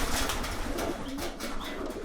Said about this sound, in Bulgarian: Това е дъщеря на турски гълъб